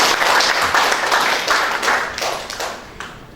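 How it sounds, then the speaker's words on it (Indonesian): Applause from a crowd at the first-anniversary celebration of company PT Tangguh Maju Terus, a dense, steady burst of clapping that swells and slowly thins out over a few seconds, heard alone. "Tepuk tangan dulu untuk kita semua."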